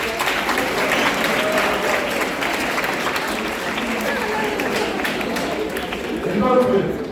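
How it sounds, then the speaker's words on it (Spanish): Steady audience applause fills a hall at a commemorative workshop event for families of the disappeared, a dense even patter of clapping with some murmuring voices underneath, swelling slightly near the end. "Un aplauso para Tiago."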